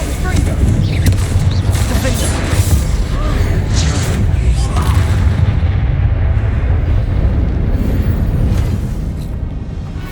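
A Confringo fire-blast spell goes off in the Hogwarts Legacy video game, a dense, loud explosive boom with rumbling, crackling blasts running continuously under layered game audio and voices.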